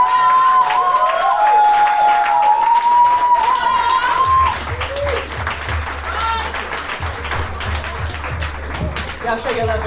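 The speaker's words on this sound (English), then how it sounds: "Clap it all the way up, Shay Black" A poetry slam audience applauds loudly and continuously, a dense wash of clapping with cheers, while a voice speaks over the crowd.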